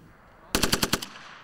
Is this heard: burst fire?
yes